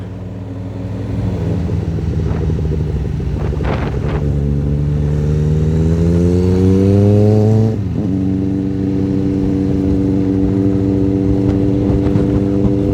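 A Honda Transalp 750 four-cylinder motorcycle exhaust drones steadily while riding, its engine pitch rising and falling through gear changes over continuous wind noise.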